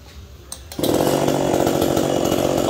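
Near silence with a faint click, then a Japanese-import chainsaw engine abruptly fires up and keeps running loudly and steadily at close range.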